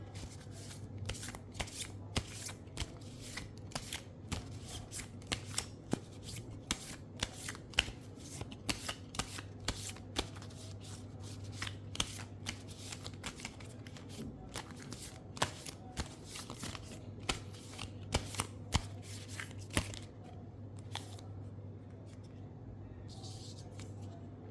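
Tarot cards are shuffled in a steady flurry of crisp riffling clicks and soft slaps that run close and unbroken for the whole stretch, with no talk over them.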